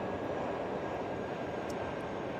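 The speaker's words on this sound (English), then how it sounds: "Why do I hear the engines pull down?" Engines of an A340-300 airliner in the X-Plane 12 flight simulator, a steady broad roar with a faint whine, holding even and moderately loud throughout with no voices.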